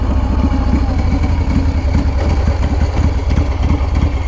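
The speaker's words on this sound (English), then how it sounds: "That's the dry clutch." A 2016 custom motorcycle idles loudly and close, its dry clutch giving off a steady, fast metallic rattle over the low engine rumble.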